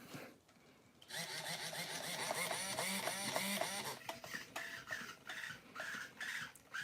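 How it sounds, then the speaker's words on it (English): A throttle servo on a nitro RC truck buzzes and whirs in a choppy, stuttering run, close and fairly loud, with rapid pulsing bursts that keep cutting in and out. "that throttle servo is not feeling good"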